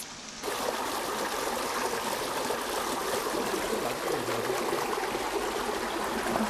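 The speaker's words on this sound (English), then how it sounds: "물줄기가 시원하게 내려오네요." A stream of water flows steadily down a waterway feeding rice paddy terraces between valleys in Yunnan, a continuous close, full rushing wash that starts abruptly and holds the same loud level throughout.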